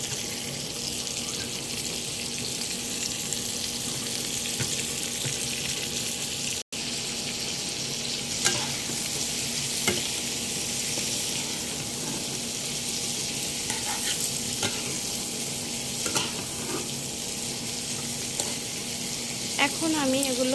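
Chopped bitter gourd with turmeric fries in a pan with shrimp, giving a loud, constant sizzle close by, broken by occasional scraping clicks as a spatula stirs the mixture.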